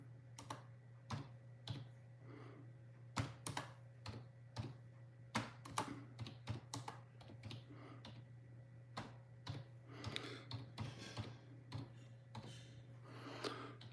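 Someone types one-handed on a computer keyboard beside an SDR radio setup, producing quiet, uneven key clicks in irregular bursts against a steady low hum.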